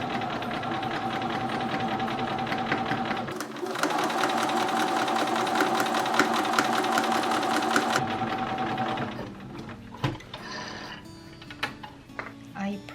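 A sewing machine stitches the shoulder seams of a retro midi dress, its rapid, even mechanical whir running steadily for several seconds before slowing into scattered clicks and handling noises.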